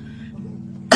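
A single short, sharp cough bursts out at the very end, following a moment of low, murmuring voice in a quiet indoor scene.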